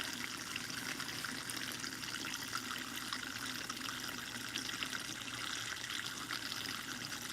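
Water from a mountain spring fed creek runs in a steady, close, even trickle and gurgle that carries on unbroken without pause or voices.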